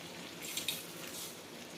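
Chicken wings cooking with onions in a pan as a pre-boil step for smothered lemon chicken, giving a steady soft sizzle and watery bubbling that holds evenly throughout, with a couple of faint clicks partway through.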